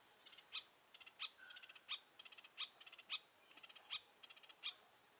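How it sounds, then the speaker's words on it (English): Oustalet's tyrannulet in Atlantic rainforest gives a repeated series of high, sharp call notes, each strong note followed by a quick run of softer chips, in a regular rhythm against a quiet background. "This is the Ostalet's tyrannolet."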